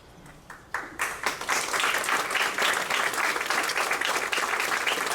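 Applause from an audience at a school National Junior Honor Society introduction ceremony, starting with a few scattered claps and swelling within a second into steady, full clapping that carries on evenly to the end.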